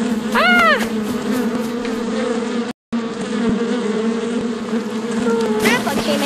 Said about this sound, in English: Something made a buzzing sound. Ah! It was ground bees.